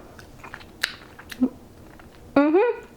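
A Cadbury Creme Egg is bitten and chewed close up: a few soft crunching bites and small mouth sounds, ending in a short voiced exclamation.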